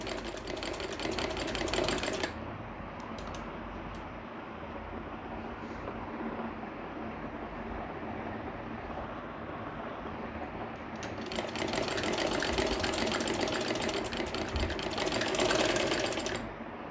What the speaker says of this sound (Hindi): तो इस तरह से स्टिचिंग करते जाएं कॉलर में।